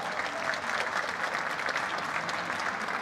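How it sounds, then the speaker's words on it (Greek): A steady, even round of audience applause at a festival program presentation, continuous dense clapping heard from within the room throughout. "Μπράβο, ένα χειροκρότημα."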